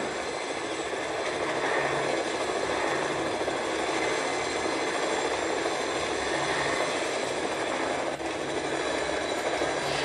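A helicopter in the video game Fortnite drones steadily and loudly throughout, a constant whirring engine roar with no talk over it.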